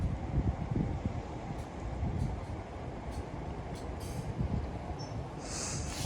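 A train pulls away from Blantyre station near Glasgow, Scotland, a steady rail rumble with faint wheel squeal, fairly quiet and with no talk.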